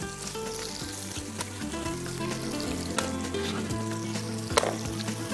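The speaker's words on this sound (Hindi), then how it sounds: "और इसको करेंगे जरा सा हम फ्राई" Red chillies, spring onions, carrot, cabbage and black mushroom frying together in oil in a pan for Malaysian glass noodles; a continuous loud sizzle with a few stirring clinks, no talking.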